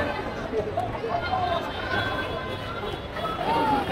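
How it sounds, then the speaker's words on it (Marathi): Dense night crowd at a Christmas celebration on MG Road, Pune: a steady wash of many overlapping voices and general hubbub, continuous and fairly loud throughout. "हा कसला खतरनाक क्राऊड आहे."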